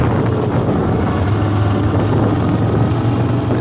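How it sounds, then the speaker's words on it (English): A 2023 Moto Guzzi V7 motorcycle under way gives off a steady, electronic-like whir blended with engine drone and wind rush, loud and constant with no talking. "there's some very electronic-like whirring sounds coming from the bike"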